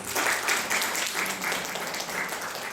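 A church congregation applauding together during a Sunday morning service, a dense wash of clapping that swells and holds steady for a few seconds, fairly loud and close.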